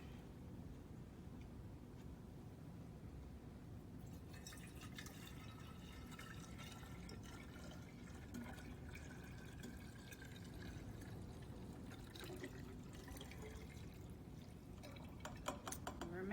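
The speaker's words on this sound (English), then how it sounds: "Keep pouring it back and forth." Chemical solution for an iodine clock reaction is poured back and forth between containers in a faint, steady liquid trickle and splash over low background hiss.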